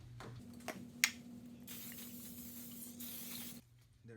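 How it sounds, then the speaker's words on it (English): Cooking spray hisses in a steady burst of about two seconds onto a waffle iron in a home kitchen, the can clicking once before release, loud and close with a low hum underneath. "we will spray it with a cooking mix so that it doesn't stick to the pan"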